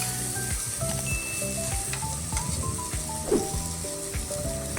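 Sweet potatoes roast in a pan over a low gas flame, giving a steady, soft sizzle that runs throughout beneath tonal background music.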